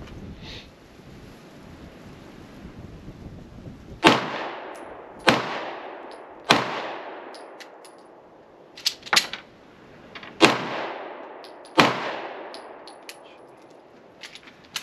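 Canik Mete MC9 pistol firing HST rounds outdoors: six sharp, loud shots spaced about a second or so apart, each with a ringing echo tail, over light wind noise and no talking.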